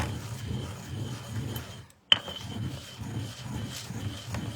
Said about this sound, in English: So you grind it down as best as you can.